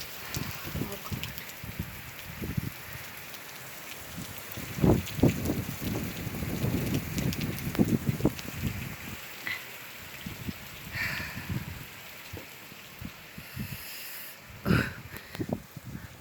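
Rain falls steadily outside an open window as a continuous hiss with scattered nearby drips and taps, with no voices.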